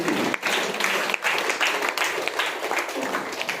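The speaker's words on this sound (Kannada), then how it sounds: "ಜೋರಾಗಿ ಚಪ್ಪಾಳೆ. ಇನ್ನೊಂದ್ಸರಿ" Audience applauding loudly at a product opening function, a dense, continuous wash of clapping that carries on steadily for several seconds.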